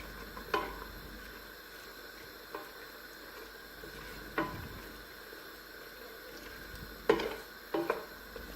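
Green peppers sautéing in a pan for oxtail and okra stew, a soft steady sizzle with a few sharp clanks of utensil on pan scattered through, close and moderate.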